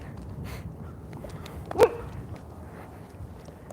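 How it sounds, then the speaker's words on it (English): A single sharp dog bark rings out at moderate distance amid steady outdoor traffic and street ambience, heard while walking along roads in Cheyenne. "it comes out pretty quickly and starts barking at me"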